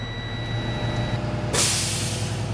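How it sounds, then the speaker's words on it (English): Truck air brake governor kicking out at about 125 psi, a sudden loud hissing burst of released air following a steady idling engine with faint tonal beeps, then the hiss continues. "there you hear the truck burp"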